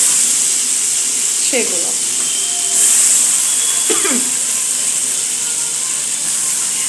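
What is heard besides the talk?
chopped onion and tomato frying in hot oil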